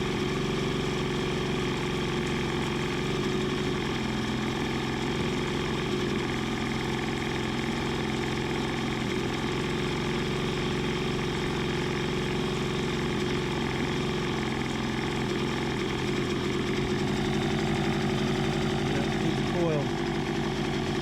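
A small free outboard motor on a boat, needing spark plugs and with an intermittent ignition coil, runs steadily and loudly throughout with a constant droning hum and a faint pitch shift near the end.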